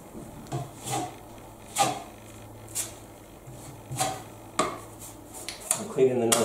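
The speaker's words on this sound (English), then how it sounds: "Cleaning the knife on the edge of the board." Filling knife scraped across a board loaded with plaster filler while patching plasterboard, giving repeated short scraping strokes at close range with brief quiet gaps between them, no talking.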